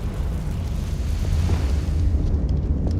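A Confringo blasting spell goes off in Hogwarts Legacy as a continuous deep, rumbling explosion that stays loud and heavy throughout, with low booming energy and no voices.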